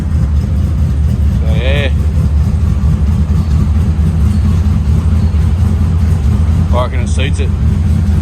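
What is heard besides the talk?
turbo LS1 V8 engine idling after cam swap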